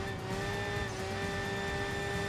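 A rotary-engined car screams at high revs in Enthusia Professional Racing, a loud sustained exhaust wail with a steady tone and a whine above it, without a break and with no talk.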